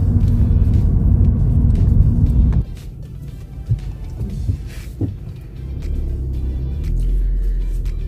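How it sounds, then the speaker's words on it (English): A car passes on an otherwise quiet road, with a loud, close engine rumble that cuts off abruptly and then gives way to softer road noise and faint clunks. "Finally, I've seen a car."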